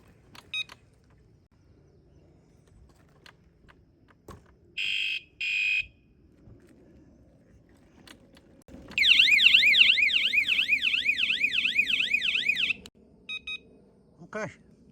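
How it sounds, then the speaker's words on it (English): A Vitilan U7 electric scooter's anti-theft alarm gives short bursts of loud beeping, then a few seconds of rapidly warbling siren, followed by brief chirps, with quiet handling noise between. "Has a 120 dB alarm."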